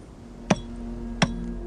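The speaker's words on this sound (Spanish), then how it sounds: "Se dividía mediante un martillo, una cuña y la habilidad del cantero." A hammer strikes a wedge splitting stone in a quarry, two sharp metallic blows roughly 0.7 seconds apart, each short and ringing briefly over a low steady background rumble.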